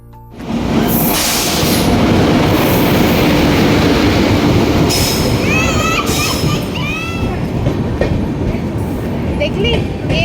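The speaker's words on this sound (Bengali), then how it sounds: "আর কিছুক্ষণের মধ্যেই ট্রেন ঢুকে যাবে" Train pulling into a station, a loud sustained rumble of rail cars with brief metallic wheel squeals rising midway; people talk faintly under the din.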